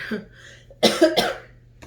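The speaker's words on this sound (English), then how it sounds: "Sorry, I'm still coughing in videos." A couple of sharp, close coughs in quick succession after a brief pause, with a soft low hum in the background.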